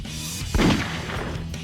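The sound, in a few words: gunshot in a Sonic video game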